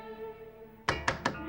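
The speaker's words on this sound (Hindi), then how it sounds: "नूपुर बेटा दरवाजा खोलो।" Three firm knocks on a wooden door in a domestic TV drama scene, spaced evenly and close, following a sustained musical tone underneath.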